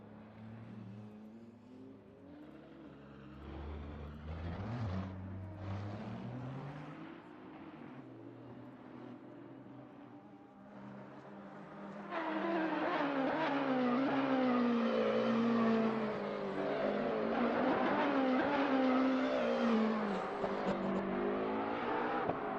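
GT3 race cars run on the Interlagos circuit in a racing game endurance event, engines rising and falling through gear changes, first a single car and then a louder, denser roar of several cars together.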